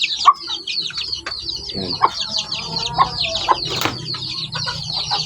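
Native mother hen clucking among her feathered chicks on a Filipino farm, with soft peeping and repeated low clucks close by; a voice briefly speaks.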